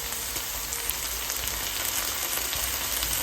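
Crushed garlic sizzles steadily in a hot pan with chicken livers, a dense, even frying hiss that stays close and continuous without any talk.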